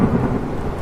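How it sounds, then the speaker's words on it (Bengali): Thunder rumbles under heavy rain in a cartoon night storm, a dense, loud, steady wash of rain with a low rolling boom, brief and with no voices. "বাইরে আকাশ ভেঙে অনবরত বৃষ্টি হয়েই চলেছে"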